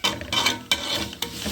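Vermicelli is stirred as it browns in a hot pan, giving three close, scraping stirring strokes over a steady sizzle of frying, with no talking.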